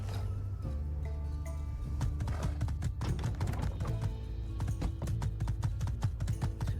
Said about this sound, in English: I'm going to actually use a horse.